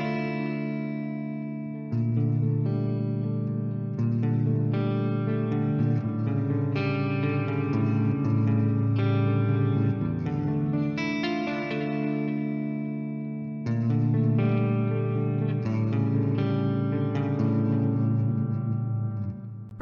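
Electric guitar through the MLC S_Zero 100 amp sim on its Emperor clean preset, a clean tone with slight breakup, played alone as sustained chords and ringing notes with a short pause midway, steady and fairly loud.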